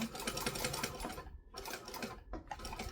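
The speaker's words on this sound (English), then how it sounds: "I'm also just going to sew straight across because it's easier." A sewing machine stitches straight across fabric for a kangaroo toy, a rapid close chatter running steadily, then pausing briefly before resuming with a short backstitch burst.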